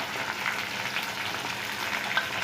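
Green chilies and onions fry in a pan alongside cloves and cinnamon for bagara rice, giving a soft, steady crackling sizzle that stays faint and even throughout, with no one speaking.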